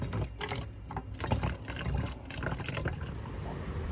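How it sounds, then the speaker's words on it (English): Water poured into a measuring container to dilute Bondrite cleaning solution for an M113 engine job, a close, splashing trickle of liquid with uneven gurgles running throughout. "Gonna add water up to 250 milliliters."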